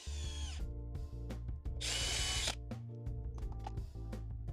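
Power drill driving a screw through a homemade wooden end cap into recycled plastic guttering for strawberries, with short whirring bursts and one longer sustained run, close and loud, no talking.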